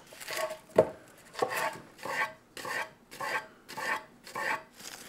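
Walnuts tumble into a salad bowl with a red onion in a series of about eight rhythmic dry rattling rustles, close and clear, with no talking.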